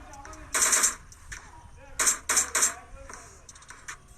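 Gunfire in a battle royale video game, with two or three sharp bursts of shots spread across a few seconds, fairly close and loud, over a low background rumble.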